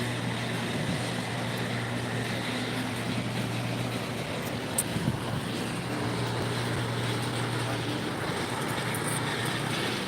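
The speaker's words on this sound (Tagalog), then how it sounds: "may dumadang eroplano" An airplane passing low near Ninoy Aquino Airport in Manila, a steady broad engine roar with a low drone underneath, sustained and fairly loud throughout with no talk.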